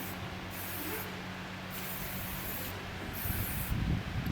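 An aerosol hairspray hisses in several long continuous bursts separated by short pauses, close and steady, with no voices.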